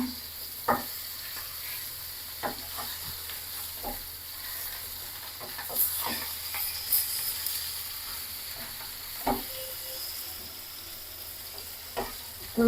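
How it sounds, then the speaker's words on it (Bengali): Masala fries in a pan alongside fish with a continuous soft sizzle, broken by occasional sharp spatula knocks and scrapes against the pan. "এখন আমি মশলাটা কষাবো সুন্দর মাছটা এখন উল্টায় দেবো"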